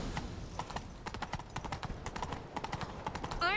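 Rapid hoofbeats of a horse galloping in The Witcher 3, a steady clip-clop rhythm at moderate distance in a chase, with no voices over it.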